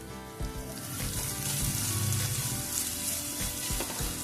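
Finely chopped shallots with salt sautéing in a pan for a Kerala fish curry, a dense, close sizzle with light stirring scrapes over a few seconds, no voices.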